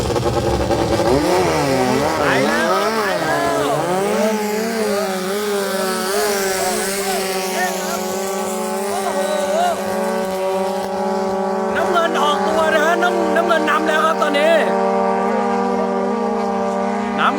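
Engines on long fibreglass racing pickup boats start up and settle into a loud, steady droning roar with wavering revs, alone at first and then under an excited commentator's voice.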